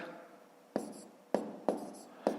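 A pen writes numbers on paper for column multiplication, giving four sharp taps or strokes spaced unevenly apart over a soft, continuous scratching.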